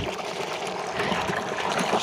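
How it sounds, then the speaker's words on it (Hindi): Water runs steadily from a pipe in a yard where animals are being watered, making a continuous close splashing trickle with no voices. "पानी आ रहा है अब"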